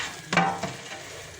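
Grilled chicken sizzling in an air fryer basket as the drawer is pulled open, a brief close burst of hiss and crackle that fades quickly into a softer, lingering sizzle.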